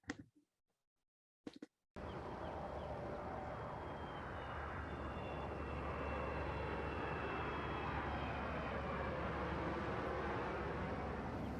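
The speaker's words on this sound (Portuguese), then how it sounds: "Os aviões voltaram a tomar conta do céu." Airplanes fly overhead with a broad, continuous engine roar that starts suddenly after brief thumps and builds slightly louder, sustained and alone without voices.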